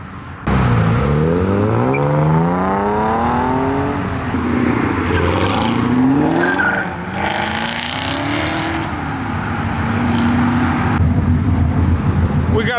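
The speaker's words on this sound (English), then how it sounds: "Let me get the Gallardo rolling out." A Lamborghini Gallardo rolling out of a car meet, its engine rising through several rapid rev sweeps and gear changes, loud and close, with people talking over the sound.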